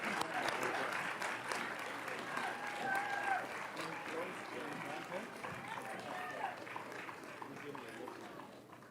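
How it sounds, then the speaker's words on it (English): Applause from an audience at a school board of education public session, a steady wash of clapping lasting the whole stretch with some faint voices mixed in. "Can we get another round of applause to them?"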